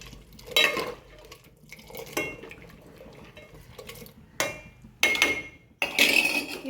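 A spoon stirs a homemade shampoo mixture in a cooking pot, with intermittent metallic scrapes and clinks against the pot's sides between quieter pauses, close and moderately loud, with no talk.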